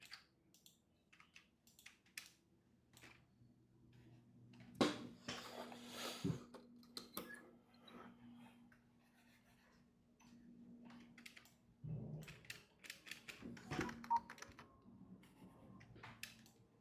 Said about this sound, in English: Oh, I don't know why my keyboard is not working.